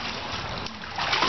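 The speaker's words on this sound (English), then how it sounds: "That's a big splash." A big splash of water at a backyard pool party, churning and sloshing loudly and continuously at close range.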